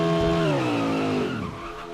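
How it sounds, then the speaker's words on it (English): Race cars in the NASCAR Heat 5 video game at Daytona, caught in a crash in turn 3: a loud, sustained tire squeal with engine whine that slides downward in pitch and fades over about two seconds. "Oh, big crash in turn 3."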